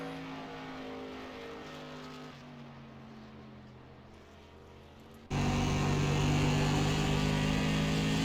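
Race car engine in a racing video game on a qualifying lap, a steady droning tone that shifts pitch midway before jumping abruptly louder and brighter for the final seconds, with no voices.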